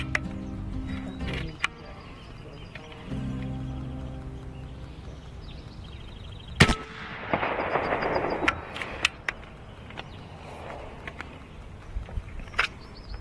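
Shots from a .30 caliber PCP airgun at an outdoor range, several sharp reports spaced irregularly across the stretch, with one loud close crack standing out among fainter pops.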